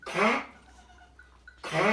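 Two loud, harsh bleats from a goat at a village farm, one at the start and one at the end, with a quiet pause between them holding faint higher calls.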